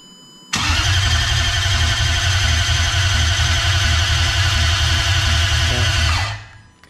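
A car engine being set up for base timing with Link engine management is cranked over by the starter for about six seconds in a steady, loud, rhythmic churn. It stops abruptly, and no one talks.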